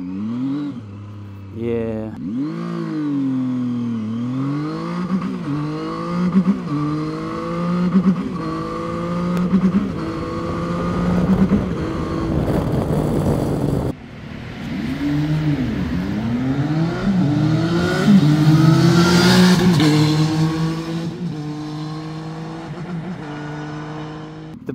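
Zontes 703F three-cylinder motorcycle engine under way during its break-in period, rising and falling through repeated revs and gear changes, loud and close throughout, with a brief spoken word from the rider.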